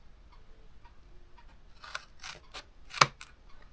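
Scissors cutting through a cardboard box to make a flap, giving a few soft snipping and rubbing sounds that end in one sharp, loud cut near the finish, close and quiet otherwise, with no talking.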